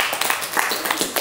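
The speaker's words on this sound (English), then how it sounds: "give him a round of applause" Brief burst of clapping and applause, a quick run of sharp claps from a small group at close range.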